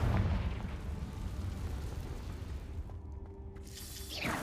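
Confringo blasting spell explosion in Hogwarts Legacy, a deep booming blast at the start rolling off into a low rumble, followed later by a brief sharp magical whoosh, no speech.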